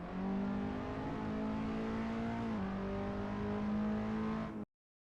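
Skip Barber race car engine and tires in a racing video game mod. The motor gives a steady, close drone that dips slightly in pitch midway, holds on, then cuts off abruptly.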